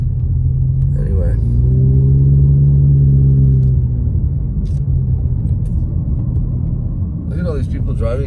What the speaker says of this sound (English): Look at all these people driving so fast in this neighborhood.